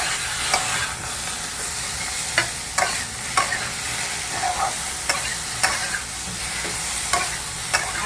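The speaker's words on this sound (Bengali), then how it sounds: "এবার দিয়ে ভালো করে সবজিগুলোর সঙ্গে মিক্স করে নেব" Tomato, turmeric and vegetables get stirred together in a frying pan, a continuous sizzle broken by regular scraping strokes of the spoon roughly every half second to second, close and loud with no talking.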